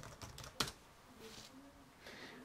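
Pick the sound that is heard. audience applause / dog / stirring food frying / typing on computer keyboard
typing on computer keyboard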